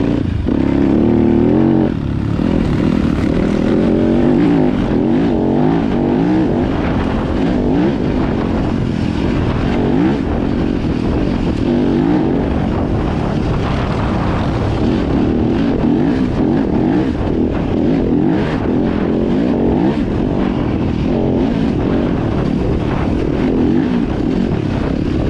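A Yamaha YZ250FX dirt bike fitted with Enduro Engineering suspension roars loud and continuous while being ridden, its engine note rising and falling with throttle and gear changes, and no talking is heard.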